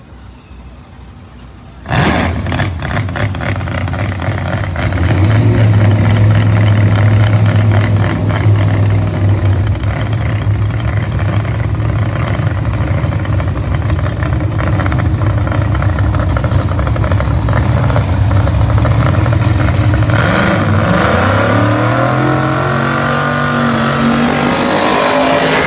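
Pro Mod drag race cars idle, rumble and rev hard at Bradenton Motorsports Park, the loud engine roar building and holding close by and then changing pitch as the cars rev and pull away.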